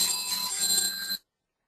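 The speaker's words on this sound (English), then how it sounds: "my phone is ringing of all things" A phone rings with a bright, electronic ring that lasts about a second, then cuts off abruptly into silence.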